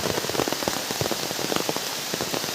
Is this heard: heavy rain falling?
yes